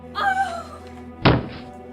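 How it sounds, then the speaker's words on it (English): A thud of a body falling to the floor as a radio drama sound effect, one heavy impact standing alone after a brief tonal sound. "Mrs. Peacock faints, falling to the floor with a thud"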